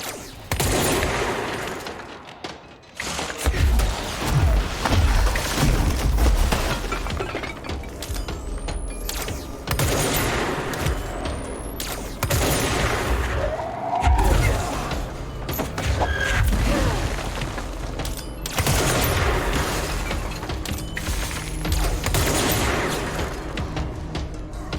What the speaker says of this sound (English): Goddamn rockets.